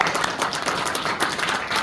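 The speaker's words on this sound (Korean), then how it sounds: "큰 박수 한번 하나님께" At a Korean church gathering an audience claps together, a lively, fairly close burst of many hands with irregular sharp peaks throughout.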